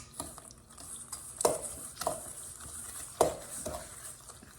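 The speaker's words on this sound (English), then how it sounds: "We're going to mix this all together." A spoon mixes pear mincemeat pie filling with chopped pecans in a bowl, giving a few sharp clinks and scrapes at uneven intervals over a quiet background, close by with no speech.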